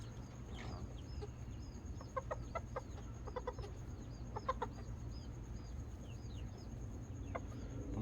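Miniature chickens cluck softly in short scattered bursts over a steady low hum, with faint chirps running throughout.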